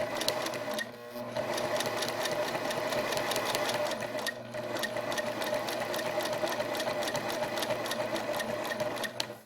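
A sewing machine stitches along the seam of patchwork fabric for a quilted placemat, a steady close mechanical whir with rapid needle ticking that runs almost without a break, dipping briefly twice.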